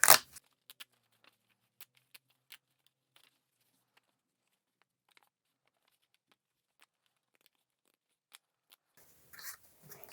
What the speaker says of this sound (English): So because I wasn't cutting the whole stamp, I can just tear off the bit I need.